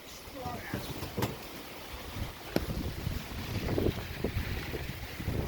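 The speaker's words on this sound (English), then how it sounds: "It is pouring. Oh my god. Wow, that's strong. That's some strong winds." Heavy rain and strong gusting wind during a thunderstorm in Toronto, a rough, roaring rush with buffeting wind on the microphone and scattered sharp patters.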